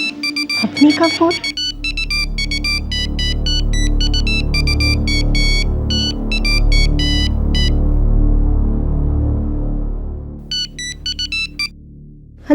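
Phone ringtone from a TV courtroom drama, sounding as a bright repeating electronic melody in short bursts over a low background hum, pausing briefly near the end before resuming.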